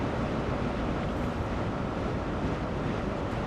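A Class 43 HST diesel engine idling in the Train Sim World video game, a low, even rumble like a truck, droning steadily with no talk over it.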